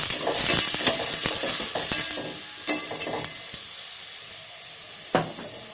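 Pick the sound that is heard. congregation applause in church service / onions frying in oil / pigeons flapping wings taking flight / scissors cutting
onions frying in oil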